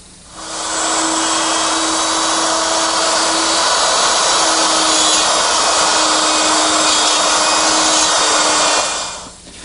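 A router-type power tool whines steadily as it cuts dovetail pins with a jig in a wooden secretary desk side board, sounding loud and close. The cut runs continuously and then spins down.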